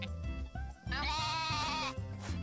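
A sheep on the farm in Story of Seasons: A Wonderful Life gives one sustained, wavering bleat over looping game background music. The call is clear but fairly quiet, and no one speaks.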